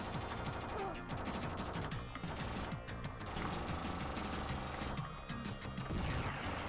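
Rapid gunfire and crashing effects from the T2 Arcade Game on the Sega Mega Drive come as dense rattling bursts over a busy game soundtrack, fairly quiet and continuous.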